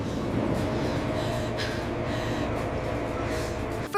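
A subway train gives a continuous low rumble and rolling rail noise with faint higher squeals, steady throughout and with no talking.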